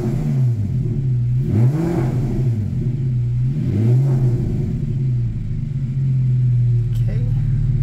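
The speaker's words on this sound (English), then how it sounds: "Let's rev it up," Porsche Cayman 987 engine revving; a close, loud rumbling idle rises and falls in several throttle blips before settling back to a steady idle.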